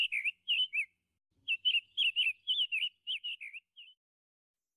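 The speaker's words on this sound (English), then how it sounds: "There is a bird." A bird chirps alone in a quiet setting: quick bright tweets in short clusters, a pause, then a longer run of rapid chirps fading out.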